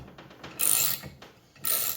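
Bolts being torqued on a Kawasaki FR730V engine, with two short ratcheting bursts from a hand wrench heard up close in a quiet workshop.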